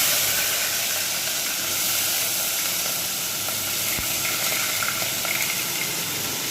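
Potatoes dropped into a hot mustard-seed tempering for samo khichdi sizzle and fry in a steady, close, unbroken hiss that holds evenly from start to finish with no talk over it.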